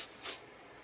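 Clean Freak dry shampoo sprayed from an aerosol can onto hair: two quick, bright hissing bursts, the second louder, close by and alone, fading into quiet.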